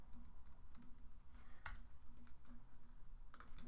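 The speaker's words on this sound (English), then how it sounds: "So I'm typing up the email at the same time." Quiet, rapid clicking of keys as an email is typed on a computer keyboard, an irregular run of soft taps with short pauses, heard close up with no talking.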